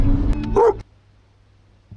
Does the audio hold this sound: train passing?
no